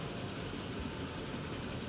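Steady, dense rumble of a long train hauling fuel at about 120 km/h in Transport Fever 2, a continuous low engine drone with broadband rolling noise and no breaks across the short stretch.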